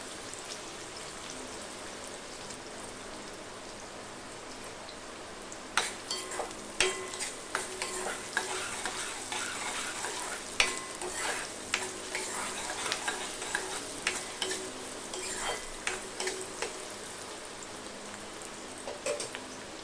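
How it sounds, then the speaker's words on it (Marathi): Onions frying in a pan for a papdi vegetable dish: a soft sizzle at first, then repeated scraping and clicking as they are stirred, close but fairly quiet, with no talk. "कांदा छानपैकी आपल्याला फ्राय करून घ्यायचे"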